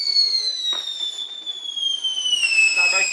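A firework mine set off in a garden, tied to a fence, gives a loud, sustained, slowly falling whistle for about three seconds, with brief crackling bursts and faint voices nearby.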